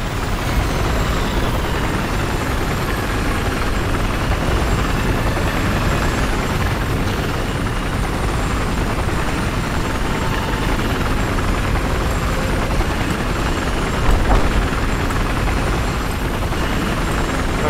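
A Battlefield 4 video game helicopter's rotor thrums loudly and steadily throughout, a dense continuous engine roar with no voices over it.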